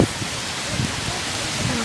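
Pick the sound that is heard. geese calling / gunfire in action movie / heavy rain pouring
heavy rain pouring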